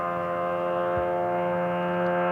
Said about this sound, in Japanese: バイクの音にも似たドローンの音。